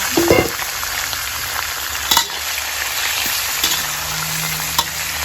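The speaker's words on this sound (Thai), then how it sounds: "อันนี้ผัดให้แห้งเลยนะคะ" Offal stir-fried in a pan with lemongrass, a dense, close sizzle of hot fat with sharp clanks and scrapes of a spatula at irregular moments, sounding continuous and busy.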